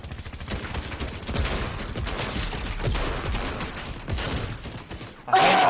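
Rapid rifle fire in a gun-game match, with bursts of shots running steadily for several seconds, then a sharper, louder mechanical sound at the very end.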